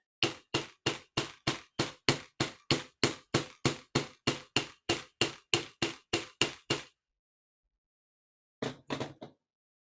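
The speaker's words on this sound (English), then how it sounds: "If you hammer it straight against the steel, it will flatten." A hammer strikes a wire pin flat against a steel block in about twenty evenly spaced, sharp metallic taps, then a pause and a quick final cluster of three lighter blows.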